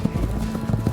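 Horses' hooves clip-clop loudly and close as cowpokes ride into the center square at Frontier Town near Lake George in the Adirondacks, a quick, uneven patter of hoofbeats.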